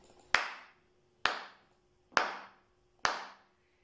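Hand clapping four quarter notes: four crisp, close claps at an even pace of roughly one per second, each fading quickly into quiet before the next.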